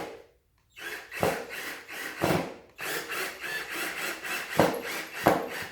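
A screw is driven into a wall anchor to mount vinyl track, heard up close as a grinding, rubbing whir in uneven bursts with sharp bites and knocks as the screw fights and seats.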